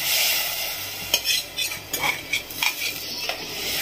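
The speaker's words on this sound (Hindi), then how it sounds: "अभी हमारा ड्राई फ्रूट तो फ्राई होगा ही, उसी के अंदर हम लोग ये चावल जो भिगा के रखे हैं वो डाल देंगे अंदर।" Soaked rice is tipped into dry fruits frying in a pan for Eid kheer and stirred with a spoon, a loud sizzle followed by several sharp scraping clinks of the spoon against the pan.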